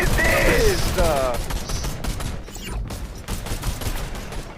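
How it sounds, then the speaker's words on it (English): Dense gunfire from many players in a Fortnite match, crackling shots layered under a voice talking over them. "Look how many people are shooting me!"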